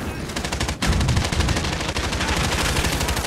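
Heavy automatic gunfire in the shooter Call of Duty Modern Warfare, dense rapid loud bursts close by that run almost nonstop after a brief gap near the start.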